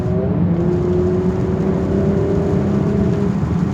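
A Mercedes-AMG GLC 43 Coupe engine rises in a smooth, steady drone as the car accelerates from motorway speed, with the sound heard clearly from inside the cabin and no talk over it.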